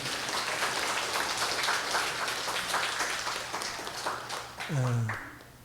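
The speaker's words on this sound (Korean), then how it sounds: "우리 박수로 뜨겁게." A church congregation applauds warmly on their feet, a dense steady patter of many hands filling the room, fading slightly before a voice speaks briefly near the end.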